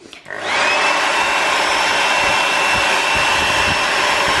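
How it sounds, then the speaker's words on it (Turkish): A hair dryer blows hot air onto a sticker to soften its adhesive in a new kitchen, starting up after a brief click and then holding a loud, steady whir with a high whine for several seconds. "Bu yapışkını şimdi kolayca bakın şöyle saç kurutma makinesiyle çözeceğim."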